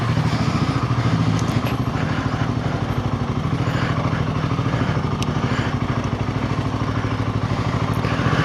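A Royal Enfield Himalayan 450 (2025+ model) fitted with a Fuel X Pro Plus dual O2 sensor module, its engine thrumming steadily and fairly loud while riding, with a continuous low rhythmic pulse and some clatter throughout.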